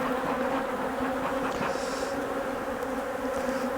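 Steady, dense buzzing of many honeybees during an inspection of a recently split colony, a continuous drone with a couple of sustained low hums beneath, close and unbroken throughout.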